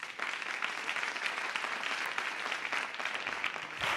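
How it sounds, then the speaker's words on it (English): An audience at the World Bank Youth Summit 2018 applauds for Brian, a steady wash of many hands clapping, sustained and fairly even, with no speech over it. "One more round of applause for Brian."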